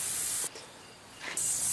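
Rain Bird lawn sprinkler heads spray water with a loud steady hiss that briefly drops away and returns, close by and heard alone.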